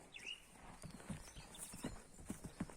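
Working draft mares walking with hooves clip-clopping in an uneven rhythm, faint and moderately distant, with a brief high whinny near the start.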